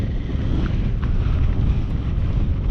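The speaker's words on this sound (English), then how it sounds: "Wow, it's windy." Strong, steady wind buffets the microphone high on a coastal clifftop path between Crackington Haven and Boscastle, a loud unbroken roar with no gaps and no speech.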